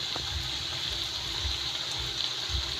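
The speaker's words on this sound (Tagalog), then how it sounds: "Saka lalagyan natin ako yan ng konting tubig." Water poured into a pan of adobo as it cooks, a steady low gushing and sloshing with a constant hiss over it, close and fairly even throughout.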